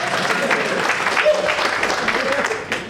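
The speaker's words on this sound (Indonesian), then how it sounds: "Tepuk tangan dulu dong." An audience at a stand-up comedy competition in Bali claps loudly in a brief, dense burst, with crowd murmur and voices mixed in.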